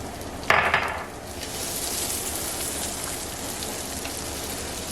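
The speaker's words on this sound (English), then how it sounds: "So you just crush you some 2 garlic cloves up and put it right over in here, and you're gonna let that cook." Crushed garlic cloves hit a hot pan for homemade Alfredo sauce, giving a brief burst of sizzle that settles into a steady, moderate frying hiss with no talking.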